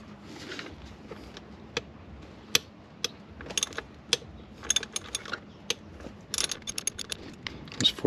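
Ratchet clicks at irregular intervals while loosening the throttle body bolts on a Kia Soul, short sharp metallic bursts close up over a quiet background.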